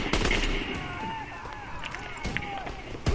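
Gunfire aimed at an enemy recon aircraft in the game Call of Duty WW2, heard as sustained loud firing under a dense battle din, with a voice talking over it.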